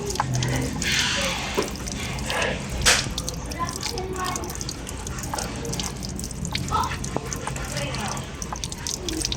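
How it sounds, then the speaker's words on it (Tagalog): Water splashes steadily over a rusty brake caliper on a Honda ADV 150 scooter during a rinse. The running, dripping wash is close and continuous, and a voice may speak faintly underneath. "basahin lang natin ng tubig"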